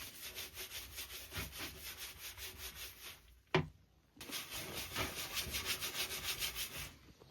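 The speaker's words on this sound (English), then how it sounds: "Then scrub." Rhythmic back-and-forth scrubbing on a jet ski hull with dish soap, a soft repeated rubbing stroke, faint and close, pausing briefly in the middle before resuming.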